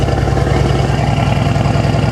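A 660 hp Mercedes-AMG G-Class with its catalytic converters removed idles close by, a loud, steady, deep rumble with a fast even pulse and no talk over it.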